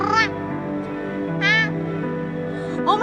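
A cat found on a walk after five weeks missing, thin and tired, meows three times up close, each call a clear rising-and-falling cry.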